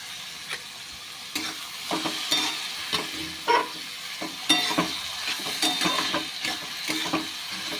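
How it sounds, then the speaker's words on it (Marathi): Curry leaves dropped into hot oil for a village-style chana masala sizzle and crackle as they are stirred, with scraping spoon strokes against the pan, moderately close and without talk. "तर यामध्ये आपण कढीपत्ता टाकणार आहोत"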